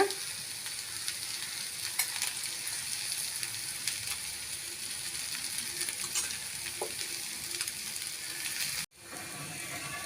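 An onion butter dosa fries in ghee on a pan with a steady, close sizzle that holds throughout, broken by a sharp brief dropout near the end, and no one talks.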